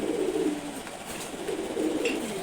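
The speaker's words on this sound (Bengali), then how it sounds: "দুইটাই নর কবুতর" Two male pigeons coo close by in low, rolling, repeated throaty phrases over a soft steady background hiss, with no talking.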